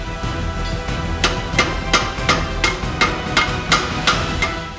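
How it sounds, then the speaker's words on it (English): Hammer blows on rivets join the pieces of a forged pirate sword, about ten sharp metallic strikes in a fairly even rhythm, close and ringing over a steady background. "it's ready for riveting together"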